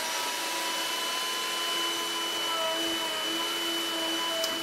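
A PantoRouter cuts mortises in wood while a stand is being built for a metal lathe, producing a steady, high-pitched router whine with a constant airy roar throughout, close and fairly loud, with no speech.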